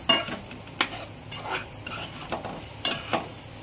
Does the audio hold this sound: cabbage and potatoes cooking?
yes